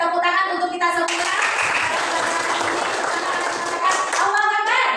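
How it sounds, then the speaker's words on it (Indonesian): Children in a classroom clap their hands together, a loud burst of fast, dense clapping lasting a few seconds, with voices just before and after. "Tepuk tangan untuk kita semua."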